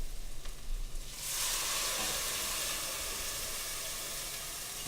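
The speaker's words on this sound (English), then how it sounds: "A beautiful sizzle." Stock for French onion soup hits a hot pan and erupts into a loud, steady hissing sizzle that continues without any talking.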